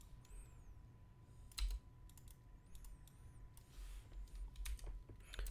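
Text typed on a computer keyboard: quiet, close clusters of quick key clicks in irregular bursts, a few louder taps standing out against a low room hum and faint background tones.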